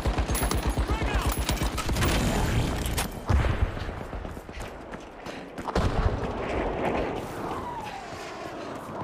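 Frag grenade blast and bursts of gunfire in The Finals on the Monaco arena, with a loud boom early on and rapid shots continuing throughout, all under an announcer's voice and a player calling out.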